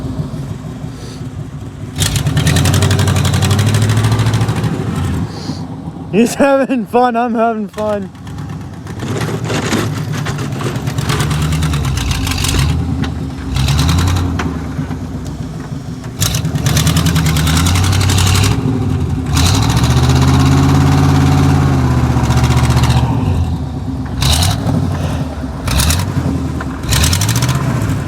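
A truck engine idles and revs loudly nearby while snow is ploughed from a driveway, its rumble rising and falling throughout, with people talking over it at times.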